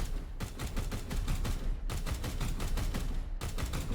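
Bursts of automatic gunfire in the video game Warhammer 40,000: Chaos Gate - Daemonhunters, three sustained rapid volleys separated by brief gaps, loud and without talk.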